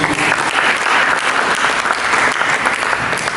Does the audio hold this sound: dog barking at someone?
no